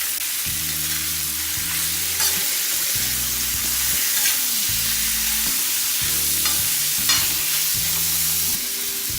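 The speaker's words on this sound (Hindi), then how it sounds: "लहसुन अदरक हरी मिर्च के साथ भून लेते हैं पहले" Garlic, ginger and green chilli fry with onions in a pan, crackling in a steady, close sizzle while a utensil stirs the mix in repeated scraping strokes.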